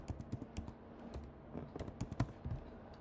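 Typing on a computer keyboard, a quick irregular run of close, soft key clicks with short pauses.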